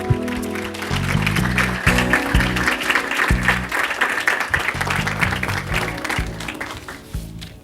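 A large crowd claps in sustained, dense applause for about seven seconds to welcome a speaker onstage, with music playing underneath before the clapping fades out.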